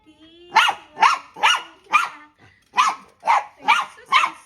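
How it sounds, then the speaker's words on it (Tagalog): A dog barks close by in a steady series of about nine loud, sharp barks, with a faint voice in the background. "May aso o."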